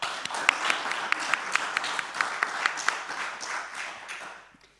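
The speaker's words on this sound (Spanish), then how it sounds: "Un aplauso para ellos." A radio studio audience applauds after guests are introduced at a book presentation, steady clapping with a few sharper claps standing out, then trailing off toward the end.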